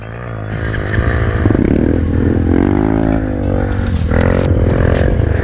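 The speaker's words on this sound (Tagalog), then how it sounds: "Narinig niyo yun? Sa tunog pala ng motor oh. Bumibira." An enduro dirt bike engine revs hard and strains uphill on a trail in Pangasinan, Philippines, loud and close, with rattling and scraping as it climbs over rough ground.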